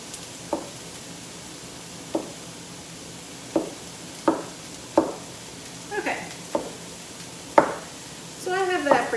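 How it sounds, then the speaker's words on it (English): Onion cooks in olive oil with a steady low sizzle, broken by periodic scraping stirs roughly every second or so and a brief rattle near the end. "It's amazing how good just cooking olive oil and onion smells."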